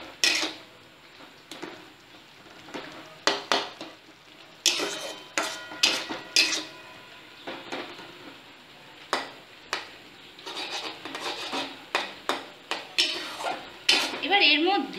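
Pineapple halwa with sugar being stirred in a pan: a long run of irregular metallic scrapes and clinks of a spoon against the pan, fairly close and loud, with no speech.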